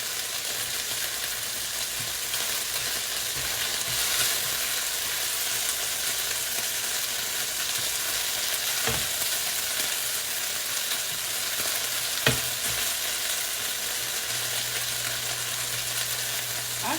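Beef strips for Asian pepper steak fry in a hot pan with a steady, even sizzle throughout, close and continuous with faint occasional stirring clicks.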